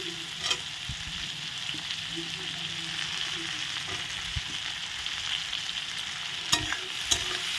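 Chopped tomato and green chilli fry in a pan for egg ghugni, with a steady sizzle throughout and a handful of sharp clicks and taps from stirring.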